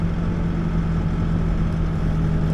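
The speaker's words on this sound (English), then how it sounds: "But you can hear this backhoe, it don't mind much when it's running smooth." A backhoe's diesel engine runs smoothly while digging easy ground, a steady close low hum with a constant drone and no lugging, heard alone without talk.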